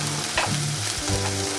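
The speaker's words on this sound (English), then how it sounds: "As they are doing their thing, I'm going to put my onions in." Steak with green onions frying in a pan, a loud close continuous sizzle and crackle with stirring and scraping movements throughout.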